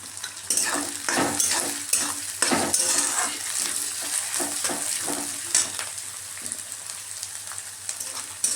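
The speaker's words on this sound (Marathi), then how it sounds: "सगळ्या भाज्या चांगल्या छान तेलात परतून घ्यायच्या" Broccoli, carrot and bell pepper stir-fry in hot oil for homemade fried rice, a continuous crackling sizzle broken by frequent scraping and tossing strokes of a spatula in the pan.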